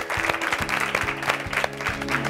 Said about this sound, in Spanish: Un aplauso para los músicos también